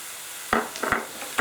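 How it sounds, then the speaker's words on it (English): A spoon stirs cinnamon and cumin through meatballs in tomato sauce, a few soft wet scrapes and squelches in quick succession over a quiet simmer. "whenever you add anything, just give it a stir"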